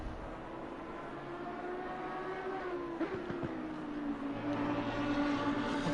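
Lamborghini race car engine from Assetto Corsa Competizione at the Zandvoort circuit, a steady sustained drone with a gently shifting pitch and a slight rise near the end, moderately quiet with no voices.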